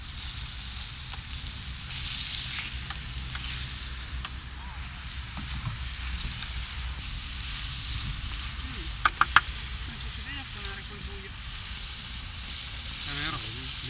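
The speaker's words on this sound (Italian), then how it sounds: "te lo faccio bollire con fuoco alto" Food cooks on a high flame with a steady sizzling and frying hiss, moderately quiet and continuous, with a few clinks of utensils and brief voices in the background.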